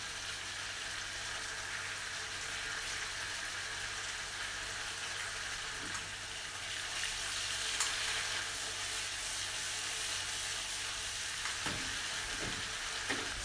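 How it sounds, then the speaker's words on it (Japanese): Tomatoes sizzle steadily in a hot frying pan while being crushed with a fork, with a continuous close crackle and a few soft scraping knocks near the end. "トマトをフライパンに入れたらフォークで潰していきます。"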